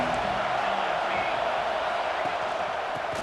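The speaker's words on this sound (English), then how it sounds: "This crowd ready to make its presence known." A football stadium crowd at the Ohio vs Ohio State game roars in a dense, sustained wash of cheering that fills the whole stretch without a break.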